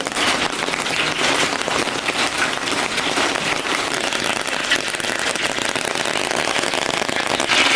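Heavy rain pours steadily onto a tin roof outdoors, a dense, unbroken hiss that stays loud throughout with no talk.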